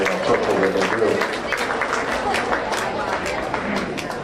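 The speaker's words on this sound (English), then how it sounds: "please give these young people a round of applause for doing a really, really good job out here" Crowd at a county fair swine show applauding young exhibitors, a moderate burst of clapping in an open show ring with background murmur, loudest at the start and thinning over four seconds.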